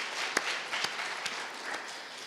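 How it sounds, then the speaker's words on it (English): Audience applause at the SADC–India LPG Summit 2023, a steady wash of many hands clapping in a hall, with a few sharper individual claps standing out. "a round of applause"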